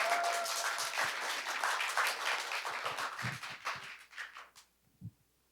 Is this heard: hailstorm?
no